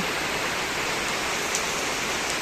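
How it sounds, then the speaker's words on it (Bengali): Heavy rain pours down in a dense, continuous hiss, loud and unbroken throughout. "বিশাল বর্ষা হচ্ছে, বিশাল জোরে বর্ষা হচ্ছে।"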